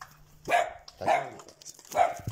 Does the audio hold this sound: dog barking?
yes